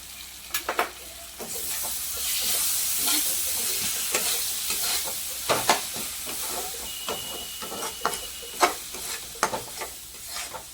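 Meat fries with ginger garlic paste in a pan, a continuous sizzling hiss broken by repeated sharp scraping clacks of stirring, with no voices.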